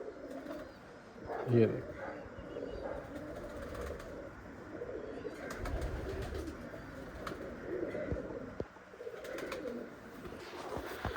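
A slaty bichhu breed pigeon coos softly a few times, close by and fairly quiet, with someone talking over the calls.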